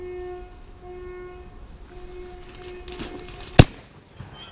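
A single sharp shotgun blast during a wild boar hunt in the woods, one loud crack near the end that rises out of quiet outdoor ambience with a faint steady tone.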